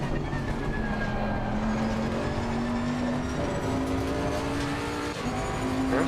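Race cars in Assetto Corsa Competizione at Monza's Turn 1 hold a continuous engine drone that climbs gradually in pitch as they accelerate, with other cars nearby and a faint tire squeal, without speech.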